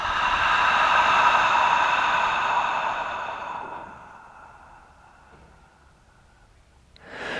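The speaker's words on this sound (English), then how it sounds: "Open the mouth on the exhale." Open-mouthed exhale during a yoga class, a long breathy rush of air close to the mic that fades out over a few seconds, followed by a faint short sound.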